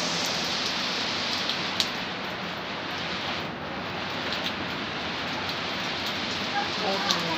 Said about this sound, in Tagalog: Why so heavy rain?